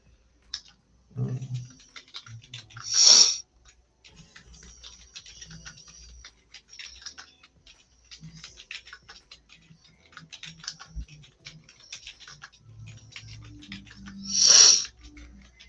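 Sparse light clicking of computer keyboard typing, quiet and close, with two brief louder sharp taps standing out against near silence.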